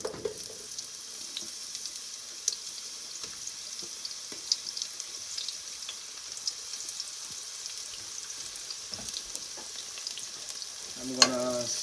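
Leeks and garlic saute in a hot pan for a Portuguese bacalhau cod dish, giving a steady close sizzle with scattered pops, then a short burst of utensil clatter near the end.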